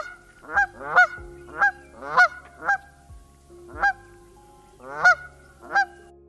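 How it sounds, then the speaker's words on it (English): A Canada goose honks repeatedly, about nine loud, close calls in an uneven rhythm with brief gaps between them. "the Canada goose."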